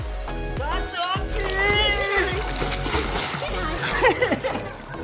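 Children splashing and swimming in water at a farm, loud sloshing and splatter mixed with kids' excited voices talking and shouting throughout.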